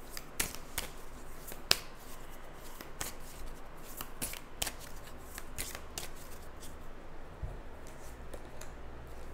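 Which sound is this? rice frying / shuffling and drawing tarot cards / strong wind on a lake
shuffling and drawing tarot cards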